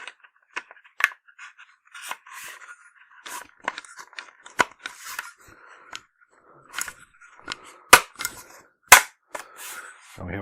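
Plastic handguards for an A1 retro rifle build snapped onto the barrel, left side then right, giving sharp close clicks and clacks in scattered bursts with short rattles between them and no talk.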